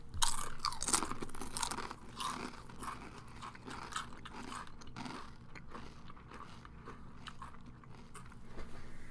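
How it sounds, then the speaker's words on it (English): Close, crackly crunching of Sun Chips Harvest Cheddar whole grain chips being chewed, with irregular bites and bursts of crunch over several seconds, fairly quiet overall. "if you guys couldn't tell from the sounds of our chewing, we just ate some Sun Chips Harvest Cheddar flavor"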